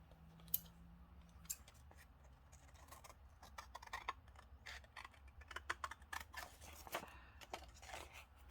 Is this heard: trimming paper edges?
yes